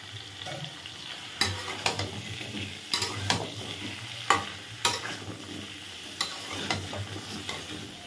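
Potatoes sizzle in a pan alongside lightly fried pointed gourd, with a soft continuous fry under repeated sharp scraping strokes from stirring, roughly every second; no one talks.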